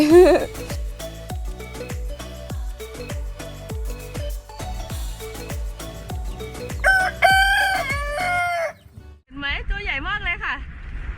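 A rooster crows loudly and close by with a warbling, wavering call near the end, following a run of sharp, rhythmic plucked-sounding knocks, with people talking.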